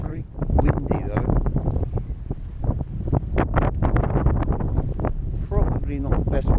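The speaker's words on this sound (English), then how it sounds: "it's very windy though" Strong wind gusting outdoors beside a medieval chapel on a bright day, a loud, steady buffeting roar across the whole stretch, with a person talking over it.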